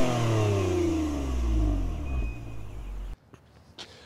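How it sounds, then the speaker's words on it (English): A 2021 Toyota Avalon TRD with a catback dual exhaust and chrome stainless steel tips revs loudly nearby, its engine note sweeping down over about three seconds before cutting off abruptly into quiet. "my favorite is the TRD catback dual exhaust, and they have the beautiful chrome stainless steel tips."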